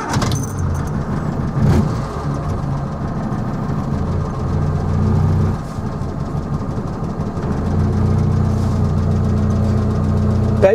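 An old car's engine cranks and catches quickly, then settles into a loud, rough idle with a steady low rumble and slight knocking that runs on close by.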